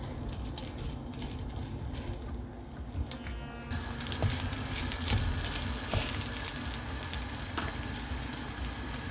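Meatballs fry in a pan with a steady, low hiss and crackle, faint and close, with a brighter burst of sizzling midway and no talking.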